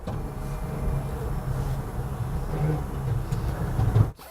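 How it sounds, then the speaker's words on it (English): A small electric motor whines steadily for a few seconds as the power aerial of a Toyota Supra MK4 extends, ending with a soft stop. "That is the sound of the aerial going up."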